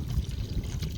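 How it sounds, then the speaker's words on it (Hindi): Water pours into a cooking pot in a short, low, gurgling splash, close and moderately quiet, lasting about a second with no voices. "अब डाल देता हूँ पानी।"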